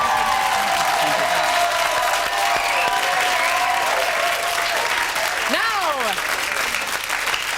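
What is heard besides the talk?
TV studio audience applause for David Ginola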